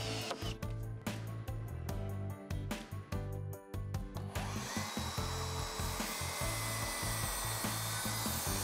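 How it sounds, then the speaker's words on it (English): Power sanding of the cut end of Versatex PVC trim: a close, buzzing machine with rapid rhythmic pulsing that turns into a smoother continuous scratchy whir. "Anytime you have exposed cuts, Versatex recommends sanding those ends to seal them."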